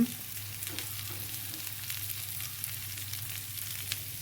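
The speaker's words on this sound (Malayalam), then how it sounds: "നമ്മുടെ ബീൻസും ക്യാരറ്റും അതിലേക്ക് ഇടും ഇപ്പോൾ ഏകദേശം അത് ചൂടായിട്ടുണ്ടാവും" Beans and carrots fry in a hot pan, a soft, steady sizzle with faint crackles and stirring scrapes, fairly quiet and close, with no voices.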